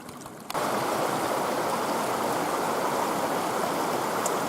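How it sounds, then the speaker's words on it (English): A small mountain stream in the Wicklow hills near a miners' village rushes steadily, a close, dense broadband gush that starts abruptly after a brief quieter moment and continues evenly. "It's a little stream along here."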